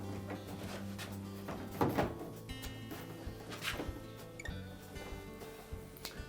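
Plastic dispenser cover of a Frigidaire refrigerator being tucked behind the door and its three rear tabs lined up with openings in the door panel: a few soft, quiet plastic knocks and clicks over a faint, steady tonal background.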